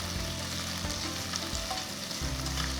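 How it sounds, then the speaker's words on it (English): Thinly sliced onions saute with whole spices in a pot for mushroom pulao, giving a dense close-up sizzle. Occasional knocks and scrapes of stirring break in, all without any voice. "Now add 2 thinly sliced onions and saute them for about a minute."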